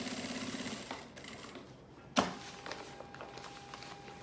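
A sewing machine stitching an inner pocket closed on a coat-holder sewing project, its rapid close chatter running briefly before stopping, followed by a sharp click and soft handling noise.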